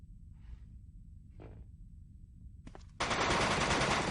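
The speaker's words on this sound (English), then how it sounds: "Let's try out a submachine gun." Submachine gun fire in Die Hard Vendetta, a dense rapid burst starting abruptly after a couple of quiet clicks and faint rustles, loud and sustained to the end.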